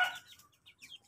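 Soft, close chicken clucks, a few short bursts over about a second, quiet and without talking.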